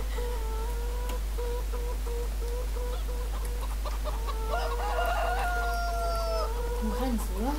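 Flocks of chickens cluck and crow in Farming Simulator 2013, a steady, busy poultry chatter that continues over the clip while a person talks faintly at the end.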